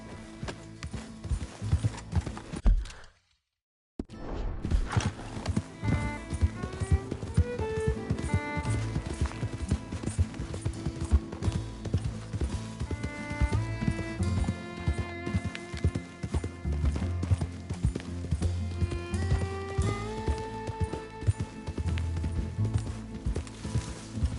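Hooves clip-clop at a steady gallop in Red Dead Redemption 2, rhythmic and close, under a game music score with a short silent gap near the start.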